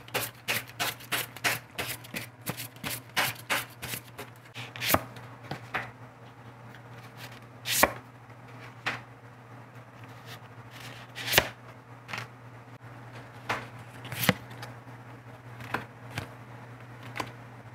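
Tarot cards are shuffled and spread out on a table, starting with a quick run of crisp flicks and slaps, then settling into sparse, separate card snaps over a steady low hum, no speech.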